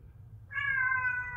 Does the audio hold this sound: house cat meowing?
yes